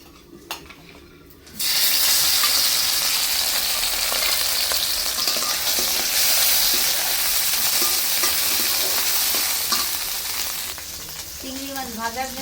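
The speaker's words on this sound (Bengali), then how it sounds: "এখন দিয়ে দেব সরিষার তেল চিংড়ি মাছটা ভাজার জন্য" Prawns drop into hot mustard oil and burst into a loud, bright sizzle that starts abruptly after a quiet moment and hisses steadily, with some clatter of a pan and stirring before it fades.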